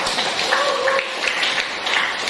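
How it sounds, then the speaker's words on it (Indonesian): A short burst of group clapping from a class at a vocational high school, fairly loud and continuous, with faint voices mixed in. "Tepuk tangan dulu untuk kita semua."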